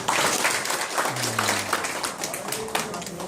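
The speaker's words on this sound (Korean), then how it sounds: "큰 박수로 마무리하기로 하겠습니다" A burst of audience applause at the close of a GMO symposium, dense overlapping clapping from a crowd, steady throughout with a few voices mixed in.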